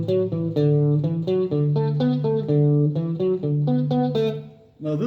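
Electric guitar playing a riff, a quick, rhythmic run of repeated plucked notes with light drive, clear and up close with no talk.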